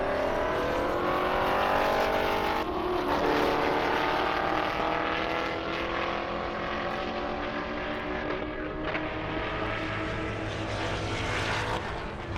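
A Corvette makes a high-speed drag run down an airstrip at a speed event, its engine loud and continuous, pitch climbing as it shifts through gears, with no break in the roar.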